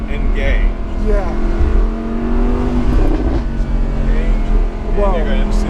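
A Lamborghini Huracan Spyder with Corsa mode engaged accelerates hard, its engine roaring loud and close with rising pitch sweeps broken by rapid gear shifts, heard from inside the open car.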